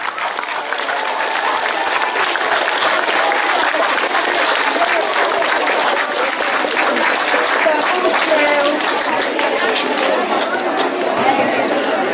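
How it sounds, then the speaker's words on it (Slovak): Applause for first-graders at a school year opening ceremony, loud and continuous clapping from a large gathering of parents and pupils, with chatter mixed in throughout. "Prosím, veľký potlesk pre 1."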